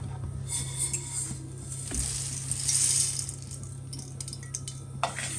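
Rice roasting in a dry pan, a soft continuous rattling and crackling of grains being stirred, with a low steady hum underneath and scattered faint clinks.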